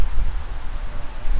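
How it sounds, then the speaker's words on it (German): Strong wind blasts across the microphone outdoors on a city walk, a dense, continuous low roar with gusting swells and no other sounds. "Ist extrem windig auch geworden."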